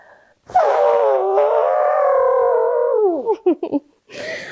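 A human voice imitates an elephant trumpeting during a children's safari-themed library session: one long, loud, wavering tonal blast lasting about three seconds, ending in a few short broken bursts and then a brief softer sound.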